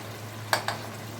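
Spoon scraping twice through prawn curry with ghee in a frying pan, two quick strokes over a quiet, steady background hum with faint sizzle.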